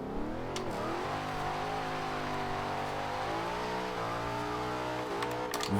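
A 2013 Ford Shelby GT500 engine in Forza Horizon 2 climbs steadily under acceleration, a loud continuous growl that rises through the revs.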